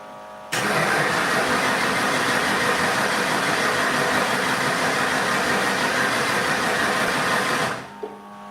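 A 1989 Ford Mustang with a 351W V8 engine cranks and runs loudly and steadily for about seven seconds, then cuts off abruptly, with no voices over it.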